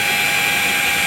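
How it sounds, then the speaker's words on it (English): A power drill with a 1/8 inch bit boring a pilot hole through plastic during a 2016-2018 Porsche Cayenne install, a loud, close, steady high whine that fills the whole brief moment. "you're going to drill your 3 pilot holes. This is a 1/8 inch drill bit."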